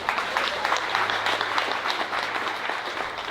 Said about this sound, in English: We clap for that too.